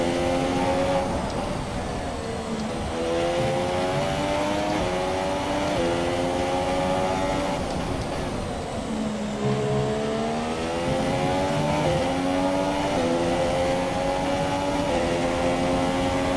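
Formula 1 car engine in the F1 2017 racing game at the Russian Grand Prix, a high revving whine rising and dropping through gear shifts, loud and continuous with no talking.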